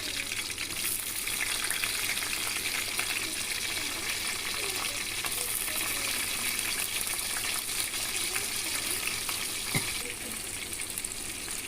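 Chopped onion and green chillies fry in hot oil, a continuous moderate sizzle and hiss filling the whole stretch, with no voices over it.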